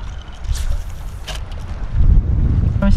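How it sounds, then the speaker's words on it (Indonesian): Wind buffets a microphone on a fishing boat out on the water, a continuous low rumble with gusts swelling louder toward the end, no voices. "Angin tidak menentu."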